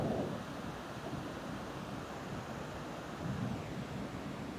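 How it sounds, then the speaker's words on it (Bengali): Surf rolling in steadily on the rough sea at Mandarmani beach, a continuous broad wash of waves with a swell near the end, mixed with wind noise and no voices. "এই সমুদ্রের আওয়াজটাই খুব সুন্দর লাগে"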